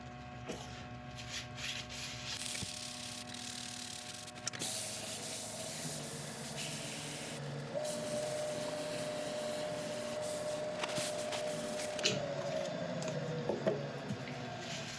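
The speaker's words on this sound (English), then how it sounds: "we'll go over the top with the abrasive paste" A resin woodturning spins on a lathe while True Grit abrasive paste is rubbed over it, producing a steady close hiss and scrubbing sound over the lathe motor's low hum, with a few brief knocks.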